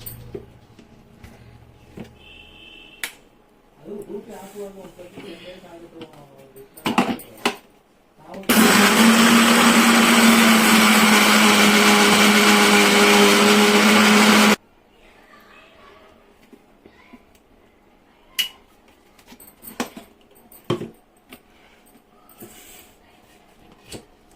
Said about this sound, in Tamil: இந்த வறுத்தல அந்த ஏலக்காய் இந்த சர்க்கரையோட சேர்த்துக்குவோம். இது எல்லாத்தையும் சேர்த்து இப்போ பவுடர் பண்ணி எடுத்துக்கலாம்.